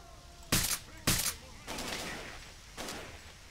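Enemy gunfire in the video game STALKER: two sharp close shots about half a second apart, then a longer rattling burst and a final single shot, with no voices.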